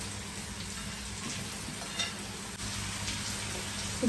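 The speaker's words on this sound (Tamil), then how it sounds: "இப்போ நாங்கள் இதுக்குள்ள வட்டி வச்ச தக்காளி பழத்தை சேர்ப்போம்" Sliced tomatoes go into a pan of frying onions and curry chillies, giving a steady soft sizzle with a few small stirring knocks, fairly quiet and with no talk.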